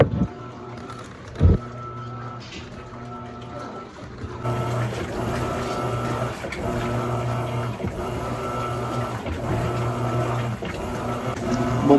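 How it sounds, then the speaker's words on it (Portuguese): An Askoll water pump in an Electrolux Premium Care 17 kg washing machine with an impeller system runs with a steady mechanical hum and liquid churning, starting up louder partway through and continuing evenly to the end. "Bomba da água Ascol,"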